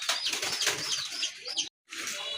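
Large pigeons flapping their wings in a rustling, fluttering burst, followed by a brief silence and more flapping up close.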